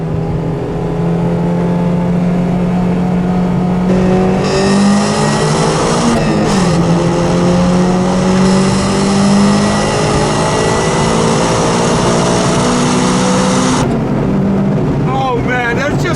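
A 1992 Honda Civic EG hatchback with a swapped JDM B18C VTEC engine revs loudly and up close, the pitch climbing and holding high through several pulls before dropping back, with no talk over it.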